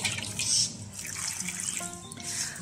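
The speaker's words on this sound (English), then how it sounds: "just soak it with the water." Water pours steadily over broken pieces of coconut husk to soak them, a close continuous splashing and trickling that runs the whole time with no voices.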